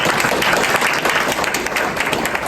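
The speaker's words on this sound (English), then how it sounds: "let's give one more round of applause." Audience applause following a marketing speech at a university event, a short burst of dense, close clapping that stays loud and steady for a couple of seconds.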